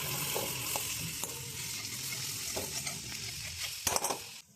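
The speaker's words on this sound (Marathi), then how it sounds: "1-2 मिनिटं ह्याला फ्राय करायचं आहे तेलामध्ये" Ground spice paste with curry leaves frying in oil in a pan while being stirred, a steady close sizzle with occasional scraping clinks of the spoon.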